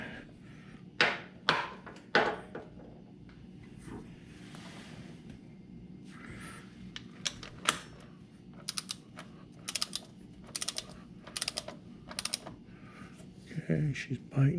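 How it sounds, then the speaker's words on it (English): Sharp metallic clicks from a torque wrench tightening the drain plug on a 2018 Harley-Davidson Fat Bob during its 1000-mile service, a few spaced clicks followed by a quicker run of ratcheting ticks, close up against a low steady hum. "So now that we got that pretty close, we'll take the torque wrench."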